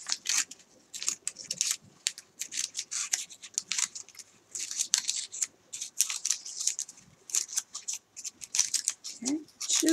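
Scissors snip through paper cupcake liners in quick, crisp, rapid cuts, a steady run of close snipping for several seconds with brief pauses between bursts.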